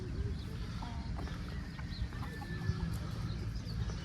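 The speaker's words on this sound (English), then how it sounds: "There's chickens right here." Chickens cluck in short, scattered calls, faint and somewhat distant beneath a steady outdoor background hum.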